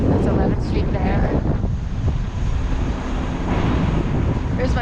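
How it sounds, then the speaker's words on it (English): Strong wind buffets the microphone outdoors on a New York City street, a loud, continuous low rumble with gusty swells that lasts the whole stretch, with no clear voices over it. "Incredibly windy here."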